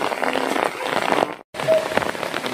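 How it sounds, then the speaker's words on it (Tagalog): Steady rain patters on a surface over a muddy farm field where grass is being cut during a typhoon, a dense close hiss with a brief break near the middle. "Nagpuputik na ang lupa kasi maulan na."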